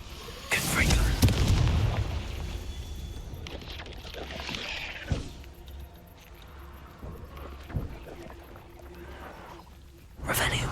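A Confringo fire spell detonates in Hogwarts Legacy with a loud, close booming blast that rumbles and fades, followed by scattered thuds and debris clatter in a dark space, with a voice speaking over parts of it.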